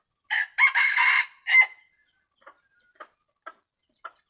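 A rooster, kept as a fighting-type bird likened to a wild junglefowl, crows loudly and close in a single long call, followed by a series of short, faint clucks or ticks spaced about half a second apart.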